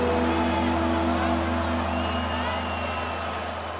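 A simulated stadium crowd at a Dallas Cowboys vs Detroit Lions football video game holds a steady, loud roar through a third-and-inches play, with a constant low hum beneath it.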